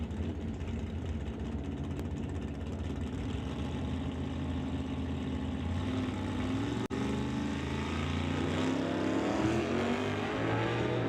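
Drag racing cars, a Nova and a Chevy Malibu, roar steadily down the strip in a continuous loud engine drone with rising pitch near the end, no talk.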